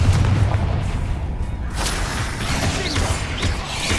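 Bombarda and Confringo spell blasts in Hogwarts Legacy: a sustained rumbling, booming explosion with crackling debris, loud and continuous throughout with a second swell midway.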